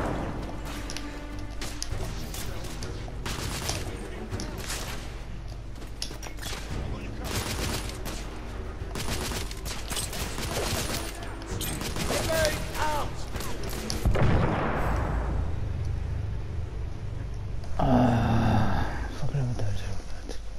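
Grenade explosion in The Order: 1886 amid a firefight, heavy thuds and crashes mixed with rapid gunfire bursts throughout, a stronger blast and debris rush arriving late, with voices shouting over the chaos.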